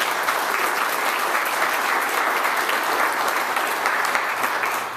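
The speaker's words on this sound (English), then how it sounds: "If we could give these people a round of applause" A conference audience at an economic development annual meeting gives board members a sustained round of applause, dense and even clapping that holds steady for the whole stretch before easing slightly at the end.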